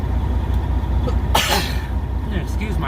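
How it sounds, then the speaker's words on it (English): One sharp cough or sneeze-like burst breaks out mid-clip inside a moving truck cab, over a constant low road and engine rumble. "Excuse my cough, not"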